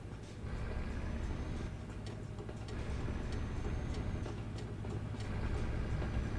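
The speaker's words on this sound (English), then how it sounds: "I can hear a train, but I can hear it sort of going dum, dum, dum, dum, dum, dum." A train passes in Euro Truck Simulator 2 with a steady low rumble and a regular ticking clatter of wheels over rail joints, continuous and moderately loud.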